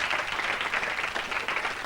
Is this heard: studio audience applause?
yes